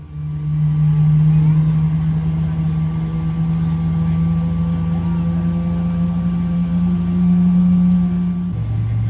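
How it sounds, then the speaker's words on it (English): Airliner jet engines start up, heard from the cabin before takeoff: a loud, steady roar with a strong low hum fills the clip continuously, shifting in pitch slightly near the end. "I can most definitely hear the engine start up."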